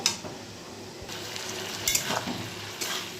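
Radhuni spice paste lightly frying in a pan while being stirred, a soft sizzle with short scraping bursts of the spoon against the pan and a faint clink near the start.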